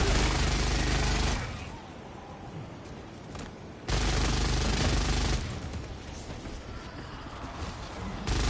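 Sentry turrets firing in Helldivers 2, a loud sustained burst of rapid automatic gunfire that cuts off, then resumes in a second long volley, with heavy low booms underneath.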